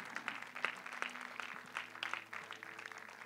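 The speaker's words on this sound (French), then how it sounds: "Est-ce qu'on peut l'applaudir?" A church congregation applauds during a sermon, a faint, distant scatter of clapping over low, sustained background music.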